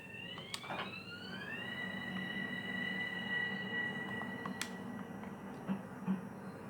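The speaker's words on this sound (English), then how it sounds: "Alright, our train is about to leave" Long Island Rail Road train departing: high tonal whine from the train rising then holding steady over a constant low rumble, with a few faint clicks and clanks, heard from inside a car.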